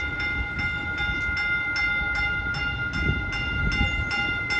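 A southbound Caltrain limited-stop train at Millbrae Station rolls steadily past with a regular clatter of wheels over rail joints and a faint tonal hum, moderately loud and close, with no voices.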